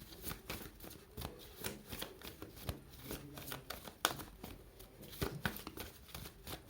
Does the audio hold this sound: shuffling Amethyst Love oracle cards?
yes